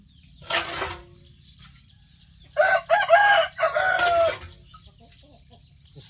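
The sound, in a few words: chicken crowing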